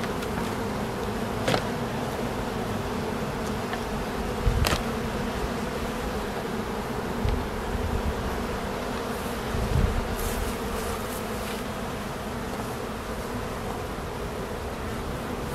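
Honeybees buzz steadily around a traditional woven basket skep hive, a dense, continuous hum close to the listener, with a few faint clicks and knocks over it.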